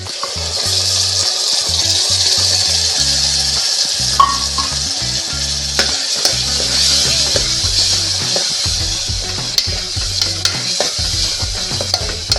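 Ground onion paste for aloo matar curry frying in a pan, a steady close sizzle with scraping spoon strokes stirring through it.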